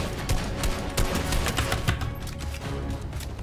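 Rapid bursts of video game gunfire crackle nonstop through a duo match, loud and dense with repeated shots overlapping, no talking over it.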